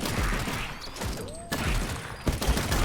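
Sniper gunfire in the video game Ball X Pit: a dense, loud burst of game shots with sharp cracks and bursts repeating across the moment, close and continuous.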